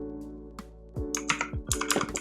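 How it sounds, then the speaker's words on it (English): Short burst of typing on a computer keyboard, a few scattered keystrokes followed by a quick run of clicks, close and fairly quiet. "Just type in the word."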